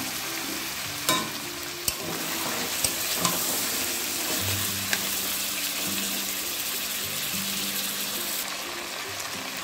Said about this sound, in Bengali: মশলাটা যাতে পুড়ে না যায় সেজন্য খুব সামান্য পরিমাণে এখানে জল দিয়ে দেবো।